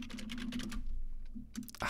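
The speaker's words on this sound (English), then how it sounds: "I'm typing in curve to mesh" Rapid clicking keystrokes on a computer keyboard while searching nodes in Blender, a quick burst of taps, then a pause, then a few more keystrokes, close and fairly quiet.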